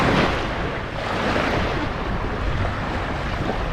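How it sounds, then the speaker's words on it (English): Waves of the Adriatic Sea, off Slovenia, washing close by in a continuous rushing swell with gentle surges, mixed with wind buffeting the microphone; no voices. "My first time in the Adriatic Sea."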